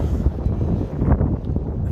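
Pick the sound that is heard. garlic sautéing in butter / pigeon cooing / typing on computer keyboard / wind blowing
wind blowing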